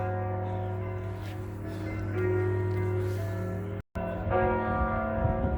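Church bells toll in Brașov, Romania, sustained ringing tones that overlap and hang in the air, with a brief dropout partway through.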